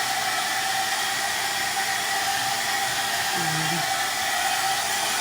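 A hair dryer blows continuously, a steady close airy rush that holds even from start to end, with a faint brief murmur partway through.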